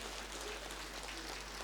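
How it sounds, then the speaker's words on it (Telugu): Loud, steady applause from a crowd at a mega vegetarian rally in Siddipet, dense clapping filling the whole moment without pause. "మన కలయిక కారణమైన పత్తి గారికి గట్టిగా చప్పట్లతో అభినందన తెలియజేద్దాం."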